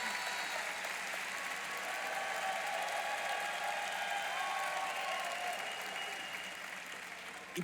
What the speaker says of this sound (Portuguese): Fuerte ese aplauso a Él.